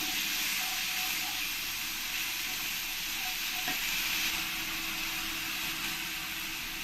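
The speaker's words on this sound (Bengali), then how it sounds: "পেঁয়াজ পেস্টটা দিয়ে দেবো দিয়ে ভালো করে পেঁয়াজটাকে আমি কষিয়ে নেবো" Onion paste frying with spices in a pan gives a steady, even sizzle and hiss throughout, with a faint stir partway through and no talking.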